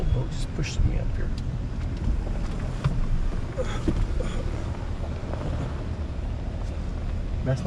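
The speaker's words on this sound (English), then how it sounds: "Big old boat just pushing me up here." A large boat churns past close by with a steady low engine rumble, and wind buffets the microphone.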